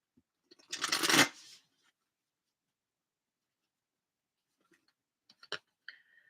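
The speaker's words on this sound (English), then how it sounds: "I'm gonna pick some cards from the Moonology deck." A single brief riffle of Moonology oracle cards, a fast crisp burst near and clear, followed by quiet and a few faint light taps and rustles.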